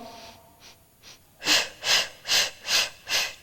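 A person breathes rhythmically through a Pilates exercise, two faint breaths followed by five louder, evenly spaced airy huffs close to the microphone, with no talking.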